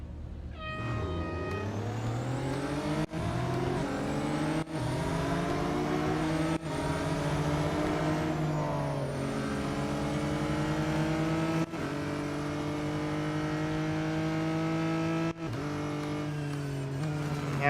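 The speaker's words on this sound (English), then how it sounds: "the three cars in front seem to be racing each other" Several race cars in the Real Racing 3 video game accelerate together, their engines rising and falling in pitch through gear shifts, with loud continuous sustained revving and brief abrupt cuts between shifts.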